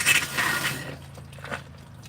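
Water draining from a travel trailer's plumbing lines during winterizing, a short close hissing splash that gushes briefly then trickles away to a faint dribble.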